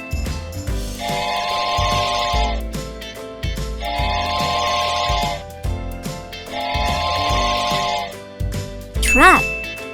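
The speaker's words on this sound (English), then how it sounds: "Train." Train with rhythmic chugging bursts repeating three times, ending in a sharp rising whistle, loud and near.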